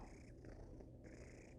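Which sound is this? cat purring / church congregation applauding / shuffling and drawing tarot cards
cat purring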